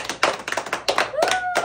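Family members clap together during a home halwa challenge game for Shab-e-Barat, a quick run of close, uneven hand claps with a voice briefly sounding over them.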